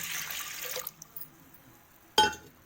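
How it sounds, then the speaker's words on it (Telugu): Water is poured into a pot of lentils (toor dal) being rinsed for a Telangana-style dal: a splashy pouring rush for the first second, then quiet with faint drips, and a sharp clink near the end. "మళ్ళీ కొన్ని నీళ్ళు పోసుకోవాలి."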